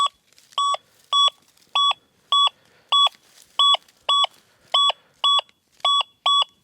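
An XTREM HUNTER GEOSENSIS X3 metal detector sounds over an iron target with a string of about eleven identical short beeps at a steady, fairly quick rhythm, clear and close with near silence between them.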